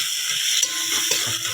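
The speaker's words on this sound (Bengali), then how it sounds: "ভালো করে কষা হয়ে গেছে পটলটা" Pieces of pointed gourd stir-fried in a pan with cooked spice paste give off a steady, close sizzle, with a few soft scrapes of a spatula stirring them.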